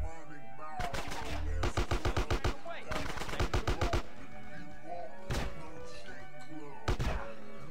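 Submachine gun fire in GTA San Andreas: several rapid automatic bursts with a few separate shots, loud and close over steady game background noise.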